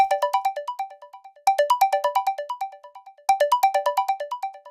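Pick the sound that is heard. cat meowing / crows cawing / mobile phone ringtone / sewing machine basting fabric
mobile phone ringtone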